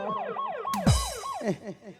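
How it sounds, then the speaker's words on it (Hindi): Ambulance siren sound effect at an outdoor Maithili folk stage play: a loud, wailing siren with repeated rising and falling sweeps, briefly interrupted by a sharp burst of noise, with no talk. "कने से भी चिंता मत करो, एम्बुलेंस आ रहा है।"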